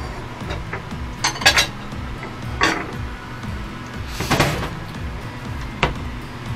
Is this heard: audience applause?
no